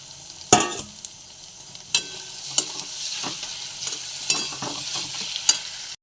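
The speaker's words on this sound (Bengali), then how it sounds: "পেঁয়াজ ক্যাপসিকামও মোটামুটি ভাজা হয়ে গেছে" Onion and capsicum frying in a wok, with a steady hiss of oil broken by several sharp scraping strokes of a spatula stirring the pan; close and moderately loud, with no speech.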